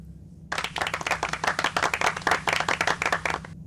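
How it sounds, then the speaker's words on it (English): A studio round of applause on a radio phone-in show, starting abruptly after a brief silence, a close, dense burst of many hands clapping rhythmically for about three seconds. "And yet another round of applause for Mark, who's got almost as many as Professor Hal."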